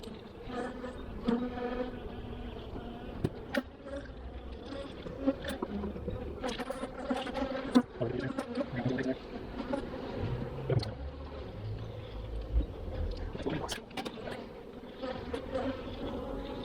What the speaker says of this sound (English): A lot of bees in here.